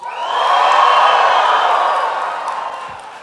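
A large rally crowd roars in sustained cheering and whooping, swelling in the first half second, holding loud and dense, then easing slightly toward the end, with no voices standing apart.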